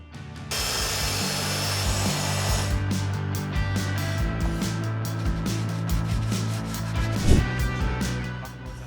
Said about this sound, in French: Nous allons maintenant la redresser à l'aide de la scie sauteuse